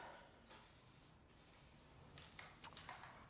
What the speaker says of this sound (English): Let me spray down my lathe.